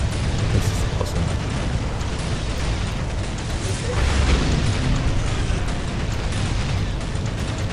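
Tanks firing and explosions booming in a Dawn of War Soulstorm battle between Steel Legion and Dark Eldar forces: a dense, continuous roar of blasts and heavy shots with rumbling low impacts and no let-up.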